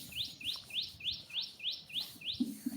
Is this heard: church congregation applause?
no